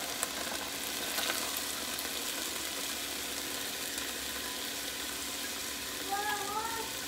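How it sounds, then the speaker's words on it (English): Onions frying in a pan as the base for a Brazilian fish, shrimp and mussel stew, giving a steady, moderate sizzle throughout with faint stirring and a few brief louder moments near the end. "Next, we're going to add in our onions."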